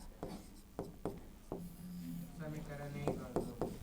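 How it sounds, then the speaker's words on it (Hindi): Chalk or pen marks out a geometry solution, a series of sharp strokes and scratches at close range, with a voice speaking softly beneath the writing. "तो यहाँ पे हम लोग लिखते हैं अब"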